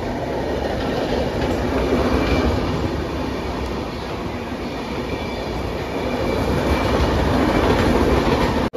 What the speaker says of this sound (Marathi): ही मालगाडी आहे.